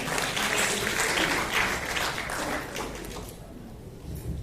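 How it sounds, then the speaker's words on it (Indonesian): A crowd claps steadily for several seconds, loud and dense, then the applause thins and fades toward the end. "Kita tepuk tangan buat Bu Minta dulu ya."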